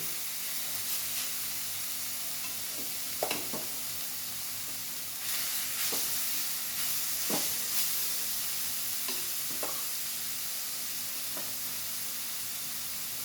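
Rice is tossed and mixed with cooked carrots in a hot pan, intermittent spoon scrapes and knocks sounding over a steady sizzling hiss.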